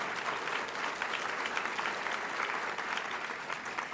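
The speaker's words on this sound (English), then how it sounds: "Somebody was clapping for Paul." Audience at a Massachusetts broadcasters hall of fame ceremony applauding Paul LaCamera, a steady dense patter of many hands clapping, moderately loud and sustained throughout with no talk over it.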